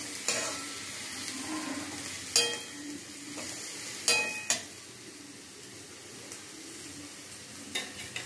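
Capsicum frying on a medium flame, a low steady sizzle broken by several sharp scrapes and clinks of a spatula against the pan, close and unaccompanied by speech.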